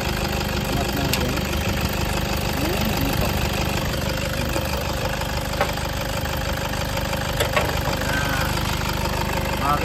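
Toyota Fortuner diesel engine idling, a steady, dense low rumble with a faint knocking texture, close and constant throughout, with no clear talk over it.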